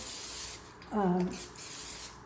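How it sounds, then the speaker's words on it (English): A short hiss of olive oil cooking spray, about half a second long, close by and quiet, with faint room noise around it. "olive oil spray"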